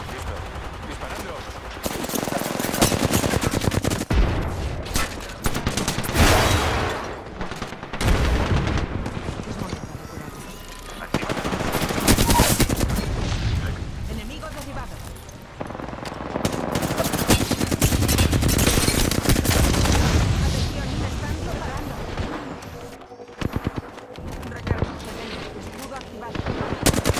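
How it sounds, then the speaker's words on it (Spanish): Gunfire in the Apex Legends battle royale game: dense, repeated bursts of automatic fire and heavy booms in loud waves, with a voice talking at times under the shooting. "Disparando."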